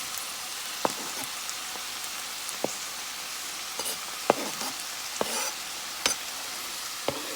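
Tomatoes, green onions and hot pepper sizzle in a hot pan, a dense steady frying hiss close to the mic, punctuated by occasional clicks and scrapes of stirring.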